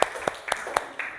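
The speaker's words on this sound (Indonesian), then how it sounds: "Tepuk tangan dulu." A classroom group claps together in a quick, evenly timed rhythm, about five sharp claps in just over a second, close and clear.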